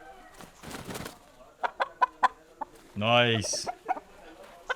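Fighting cocks in Bali clucking and squawking while held by hand, short sharp near calls in a loose series with one longer harsh cry, over brief talk.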